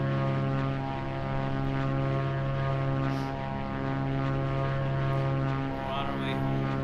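A propeller airplane flies at night under instrument flight rules in Microsoft Flight Simulator, its engine giving a steady, loud, close droning hum that holds throughout with slight swells in level.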